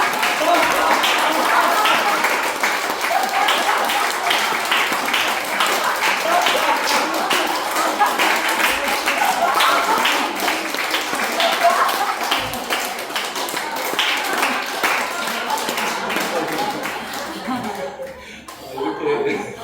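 A standing church audience claps steadily amid laughter and chatter, a busy mix of hands and voices that thins out near the end.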